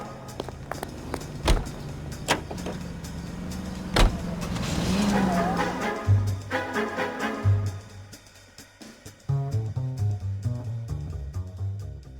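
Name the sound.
car being driven in video game L.A. Noire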